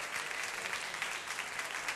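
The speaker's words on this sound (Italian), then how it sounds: "Un applauso a Claudio." Audience applause at a regional final of the Miss World beauty pageant for Lombardy and Piedmont: dense, steady clapping from a crowd, loud and continuous with no talk over it.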